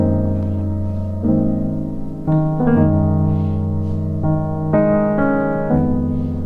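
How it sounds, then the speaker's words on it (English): A keyboard plays a gospel chord progression, with sustained full chords changing every second or so and no speech over them. "common progression in gospel that kind of sounds like this"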